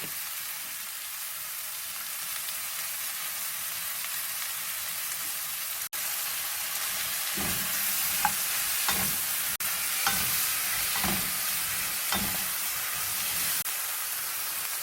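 Shrimp, onion and zucchini stir-frying in a pan, a continuous soft sizzle and hiss with a run of clinking utensil scrapes against the pan partway through, no talking.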